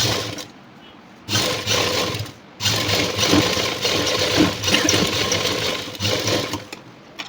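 A sewing machine stitching a folded blouse piece for a work jacket: a loud, steady whirring run starts after a short pause, stops briefly, then runs on for several seconds.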